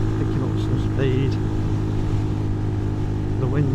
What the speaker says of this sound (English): that's quite high revs now because we're picking up some speed